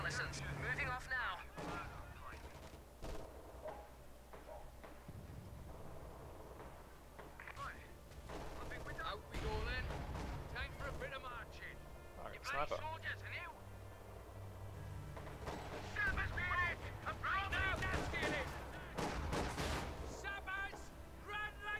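Mortar fire in the video game Company of Heroes 2, with repeated deep thumps and booms scattered through a busy battle, mixed with radio-style voice chatter and other game effects at a low overall level.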